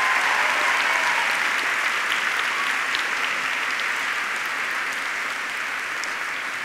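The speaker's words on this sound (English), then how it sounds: "So big round of applause for our BT volunteers." A large audience at the BT Young Scientist exhibition gives a big, sustained round of applause for volunteers, a dense even roar of clapping that stays loud throughout.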